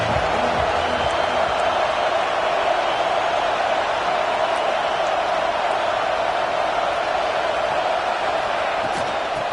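A stadium crowd roars in the NCAA football video game, a dense, steady wall of cheering and noise that stays loud and even throughout without pause.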